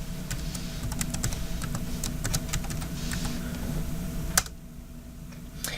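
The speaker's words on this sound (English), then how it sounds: "When you type in your password" Rapid, irregular clicking of keys on a computer keyboard, close by and steady for several seconds, ending with a sharper tap.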